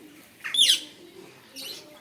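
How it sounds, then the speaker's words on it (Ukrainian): Two harsh, raspy squawks from a large yellow parrot in a park, the first louder and sharper, the second shorter and softer, close by over a quiet background. "Ось такий попугай великий жовтий."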